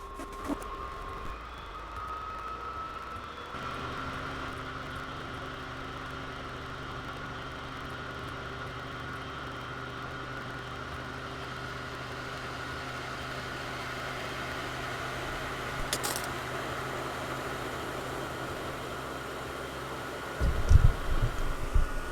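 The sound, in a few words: Wallas XC Duo diesel cooker/heater running in a van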